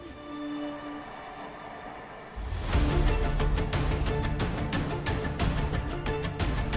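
Eurostar high-speed train on the LGV Nord out of Paris: a building rumble that jumps to a loud, close roar with a rapid regular clatter of wheels over rail joints as the train rushes past.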